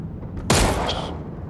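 A sudden loud burst of gunfire in PUBG, aimed at a vehicle's tires, cutting in sharply mid-clip and ringing out briefly before fading.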